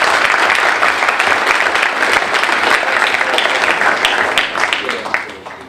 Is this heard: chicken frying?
no